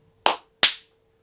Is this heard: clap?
yes